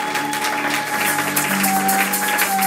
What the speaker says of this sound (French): Et je voudrais que vous acclamiez pour lui.